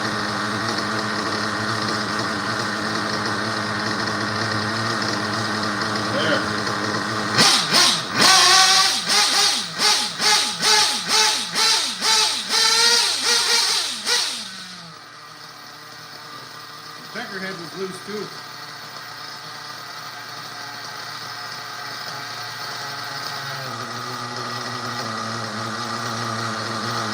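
A small RC model engine runs during break-in, a loud rapid buzzing with sharp revving pulses in the middle before dropping back to a lower idle-like drone.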